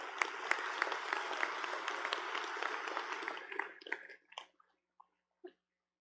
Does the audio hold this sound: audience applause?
yes